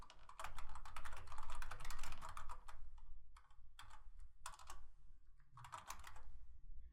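Someone types on a computer keyboard, entering data into an Excel spreadsheet, a close, quiet run of rapid key clicks in bursts separated by short pauses.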